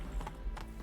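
Horse hooves clip-clopping in the video game Witcher 3, a few quick close hoofbeats in a brief run at moderate volume.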